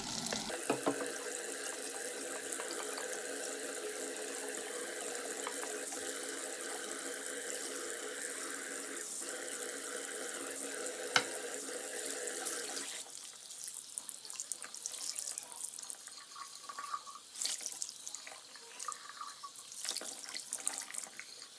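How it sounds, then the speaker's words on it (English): Water runs steadily from a tap while a makeup brush jar is rinsed for about twelve seconds, then gives way to softer splashing, dripping and handling sounds of the jar in a sink. "now I'm just gonna clean out my jar for any dust particles or extra makeup"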